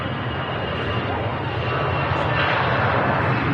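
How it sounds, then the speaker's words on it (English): Lufthansa Airbus A320ceo jet departing Manchester Airport for Munich, a steady broadband engine roar holding loud and constant throughout, with no voices over it. "Lufthansa A320 CEO off to Munich"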